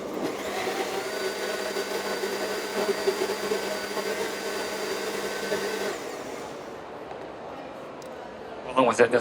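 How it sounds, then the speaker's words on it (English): A high-powered super blender whirs steadily at close range while blending a vegetarian recipe at a vegetarian congress demonstration, running for about six seconds before cutting off, with faint voices and a few clunks after it stops. "With a super blender, right?"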